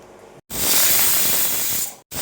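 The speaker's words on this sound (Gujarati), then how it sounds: "હવે 2 થી 3 વિસલ વગાડી લેશું" A pressure cooker full of mixed vegetables with tomato lets off a loud, sustained hissing whistle of steam, starting abruptly and cutting off after about a second and a half.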